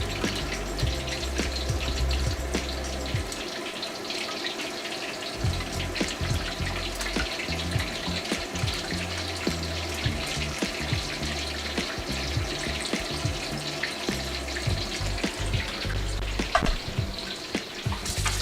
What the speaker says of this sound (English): So I'm letting those go back into the fryer.